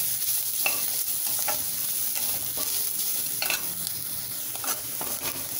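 Grated coconut sautéing in a pan for spicy kara kozhukattai, a steady sizzle with scraping stirring strokes recurring every second or so, close and continuous with no talking.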